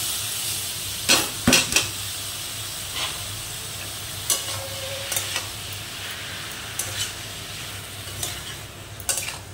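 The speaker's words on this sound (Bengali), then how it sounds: "এবার আমি সেদ্ধ করে রাখা ওলের ডাঁটাগুলো দিয়ে দেবো।" Boiled elephant-foot yam stalks stirred into frying spices in a pan, giving a low continuous sizzle broken by several sharp clinks and scrapes of a spatula against metal, close and unaccompanied by speech.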